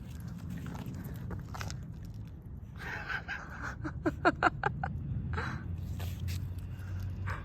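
A young Maltipoo puppy chews and eats, making a quick cluster of soft, close biting and crunching sounds over a low background hum.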